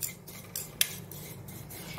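A spoon stirring vermicelli roasting in ghee in a pan on a switched-off stove, with repeated scraping strokes and two sharper metallic clinks against the pan.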